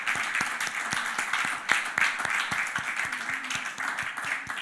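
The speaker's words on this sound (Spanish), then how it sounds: "Demos un aplauso, hermano," A church congregation at a Sunday service breaks into applause, a dense wash of clapping with a few sharp, louder claps standing out and faint voices calling beneath it.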